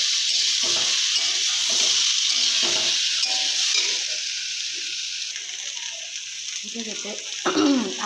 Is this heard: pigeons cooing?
no